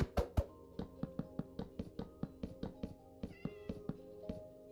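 A Minecraft cat meows in a quick run of a dozen or more short, repeated calls, close and fairly loud, with no talk over them.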